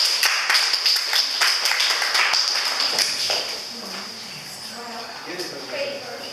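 An audience at a Toastmasters meeting in Kharkov claps in sharp, scattered bursts for about three seconds, then the claps thin out while voices talk in the room.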